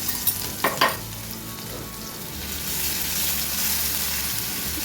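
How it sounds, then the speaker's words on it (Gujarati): Ground ginger and garlic hit hot oil in a pan for Pune misal, a few sharp clatters as they drop in, then a steady close sizzle and frying hiss that holds to the end. "ત્યાં વાટેલા આદુ અને લસણ એને ઉમેરવાનું છે."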